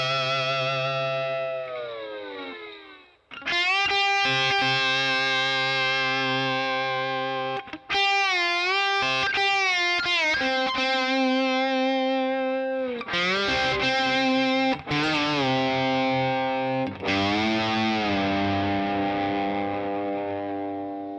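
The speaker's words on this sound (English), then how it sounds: "And that's everything for the solo, which sounds like this in total." Distorted electric guitar slide solo from a song, sustained gliding notes in several loud phrases separated by short breaks, heavy with effects and slight echo, played alone.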